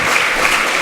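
Brief burst of audience clapping at a public talk on Europe and the migration crisis, a dense patter lasting under a second with no voices over it.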